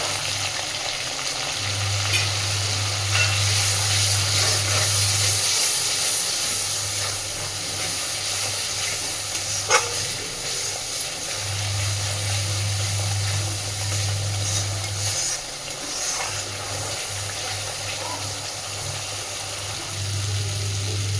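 Spice masala with ground coriander and a splash of water frying in oil for khichuri, a continuous close hiss and sizzle with occasional stirring scrapes, plus a low steady hum from the background.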